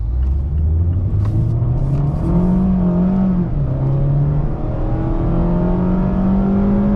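A Mazda MX-5 Miata RF GT with a 6-speed automatic in sport mode accelerating hard, the engine note climbing steadily through two upshifts, loud and close from inside the cabin.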